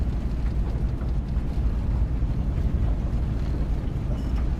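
Bush plane engine in the Deadstick Bush Pilot Simulator game drones as a steady, dense low rumble with a windy, rushing texture, unbroken and fairly loud throughout.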